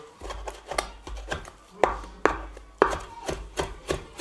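A knife chops parsley on a board, each stroke a sharp, close tap in an uneven run of roughly a dozen, some strikes louder than others, with no voices.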